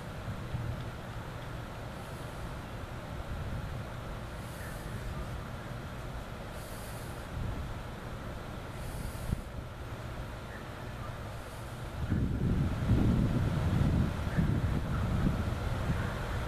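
A filthy Wang Glider Hawaiian Breeze FB50A3 box fan spinning down from high, giving a steady broadband whoosh of moving air that swells louder near the end, with no talking.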